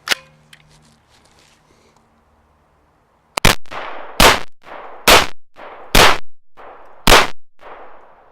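A CZ Scorpion EVO 9mm with a red dot sight firing six sharp, loud single shots at steel targets in a steady rhythm, each with a ringing decay, after a quiet stretch of faint handling noise.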